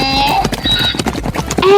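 Horse or donkey hooves clip-clop in a quick, loud rhythm with a whinny over them, a cartoon-style sound effect used in a children's Bible story.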